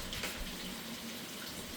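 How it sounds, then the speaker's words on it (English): Water poured into cans of spaghetti sauce, a steady, close splashing trickle with no talking. "I'm just going to add like a little bit of water to these."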